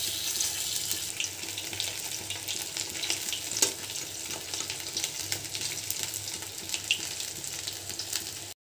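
Fish-oil fritter batter crackles in hot mustard oil, a steady close sizzle with a faint watery hiss running evenly throughout.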